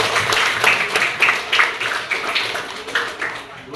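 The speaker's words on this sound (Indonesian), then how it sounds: "kita berikan aplaus untuk Atika" A classroom audience applauds a student presenter, with scattered, moderately loud hand claps running steadily for several seconds and then thinning out.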